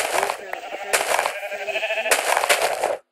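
Sheep bleat repeatedly in a blocky survival video game, several wavering calls spread across a few seconds with steady background game sound underneath.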